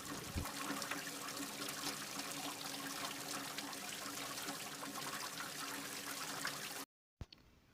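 Crabs being washed by hand in a vessel of water, a steady close trickling and sloshing that runs on without pause before cutting off abruptly near the end.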